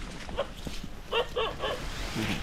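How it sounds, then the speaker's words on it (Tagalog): A few distant dog barks ring out outdoors in wind along a muddy trekking path, spaced irregularly, followed by a low yip near the end. "Tahol."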